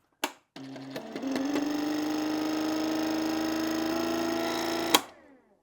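A small electric ChompSaw cardboard cutter whirs up after a brief click and runs steadily with a buzzing hum for about four seconds, then clicks off and winds down.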